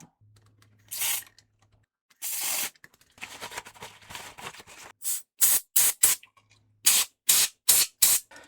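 Canned air sprayed onto a Game Boy Color switch in short hissing bursts, first a couple of longer blasts, then a rapid series of brief puffs, close and crisp with no voices.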